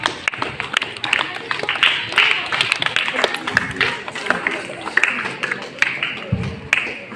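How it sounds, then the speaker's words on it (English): Applause in a school classroom for an 8th-grade class: many hands clap in a dense, quick patter that runs steadily for several seconds, with murmured voices underneath. "A big round of applause."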